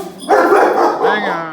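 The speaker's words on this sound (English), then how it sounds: "I don't know what they're barking at." Dogs bark in a loud, close burst of two or three yapping barks that trail into a whine, ringing out near a 1997 Ford F350 Power Stroke under repair.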